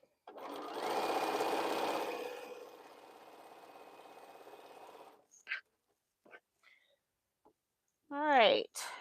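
A sewing machine chain-pieces quilt pieces in a steady, rapid whirring stitch run lasting about five seconds, followed by scattered clicks and brief talking at the end.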